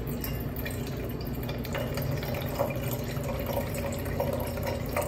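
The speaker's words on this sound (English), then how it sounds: "A stainless steel pot, and I am going to measure out my water. It says to use distilled water." Distilled water is poured into a stainless steel pot while preparing lavender soap, a steady close splashing and trickling stream with light drips and clinks, and no voices.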